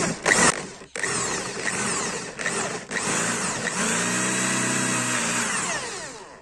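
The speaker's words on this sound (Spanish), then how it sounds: "para fijar la madera y luego procedo a hacer el taladrado" A power drill bores into wood for a homemade Moxon vise, its motor whining loudly and steadily close up with brief pauses and shifts in pitch as the bit bites.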